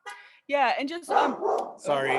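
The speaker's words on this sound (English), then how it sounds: "that's my dog" A pet dog barks several times in quick yips close by in a home office, overlapping a person who speaks briefly.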